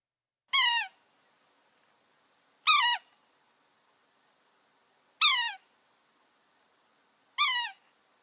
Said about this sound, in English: Here's the call of the sapsucker.